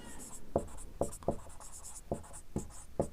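Chalk or marker writing on a classroom board, a series of short scratchy strokes and taps at an uneven pace, fairly faint and close, with no talk.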